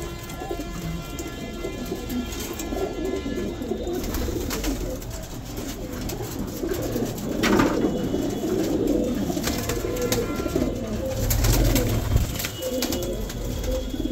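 Gardaan pigeons, a mix of white and black males and females, coo steadily inside a cage in Amroha, a dense overlapping murmur of soft calls continuing throughout.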